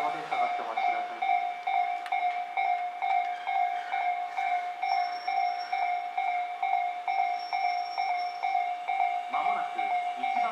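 A Tobu Tojo Line local train rolls past a station during the weekday morning rush with rhythmic clattering wheel beats and steady high tonal whine, while a station announcement voice plays over it.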